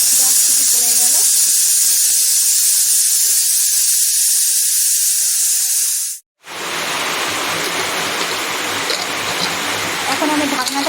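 A pressure cooker cooking mutton curry hisses loudly and steadily for the whole stretch, with a brief drop to silence in the middle before the strong, rushing hiss resumes; a voice is faintly present.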